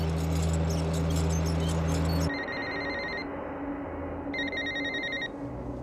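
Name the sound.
telephone ringing, nobody picks up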